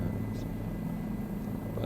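A UCAN helicopter in Microsoft Flight Simulator flies over downtown Chicago, its rotor and engine making a steady, dense low drone. The drone is loud and continuous, with no break or change in level.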